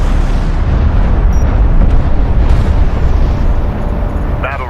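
A destroyed enemy cruiser explodes during a battle in Homeworld: Deserts of Kharak, a loud, sustained rumbling blast with crackling bursts that keeps roaring throughout and tails off slightly at the end.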